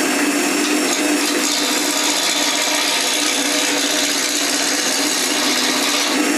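A wood lathe turns a timber spinning top while a bevelled tool takes fine cuts, giving a steady close hiss and scraping rush over the constant hum of the spinning work, with no talking.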